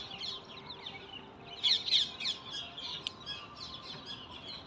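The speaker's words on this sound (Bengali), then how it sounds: "কত সুন্দর পাখির ডাক এখানে শুনতে পাওয়া যাচ্ছে।" Birds chirp in the trees at Gandhi Ashram in Ahmedabad, with parakeets among them: a busy scatter of high tweets and short calls, a louder burst of chirps partway through, over a quiet outdoor background.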